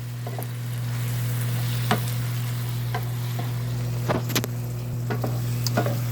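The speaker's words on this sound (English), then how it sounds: "look, it's simmering. A little grease still cooking out of the hamburger meat." Hamburger meat sizzles in its own grease in a pan, a loud continuous close-up fry with a steady hum beneath and occasional sharp pops and crackles, no voices.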